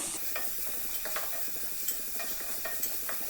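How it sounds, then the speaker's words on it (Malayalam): Two-colour capsicum sautés in a pan for chilli chicken, a steady close sizzle under quick, rhythmic spatula stirring strokes repeating throughout, no voices. "അത് ഒന്നിട്ടിട്ട് നന്നായിട്ടൊന്ന് വഴറ്റി കൊടുക്കുക."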